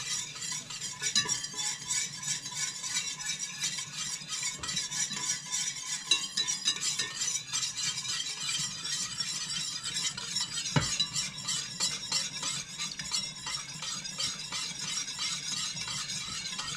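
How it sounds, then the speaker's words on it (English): Whole milk is whisked into a hot pan, giving a continuous fast scraping swish of the whisk against the pan, close and steady, with a faint sizzle and occasional metal clinks. "I'm going to whisk this in slowly"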